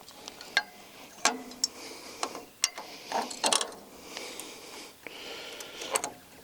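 Metal clicks and clanks from a spray bar wing being pulled free and swung out on a Stepp SBF bottom-fired kettle, a string of sharp close taps and ratcheting knocks over a faint hiss.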